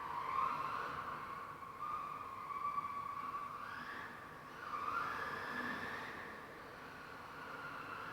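MJX 1/10 scale electric RC car with its tyres sliding, giving a steady, fairly faint whining, scrubbing noise that swells and fades across the clip with no talking.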